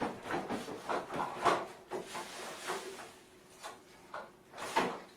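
A kitchen drawer slides open amid soft wooden rubbing and knocking, a series of quiet scrapes and bumps spread over several seconds, fairly close but faint.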